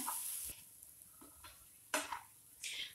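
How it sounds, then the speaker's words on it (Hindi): Vermicelli and vegetables are stirred in a pan over a low flame for semiya upma, with a soft background sizzle broken by a few short scraping strokes and louder utensil clatters near the end. No one speaks. "गैस का फ्लेम स्लो करके हम अच्छे से सब्जियों के साथ सेवैया को मिलाएंगे"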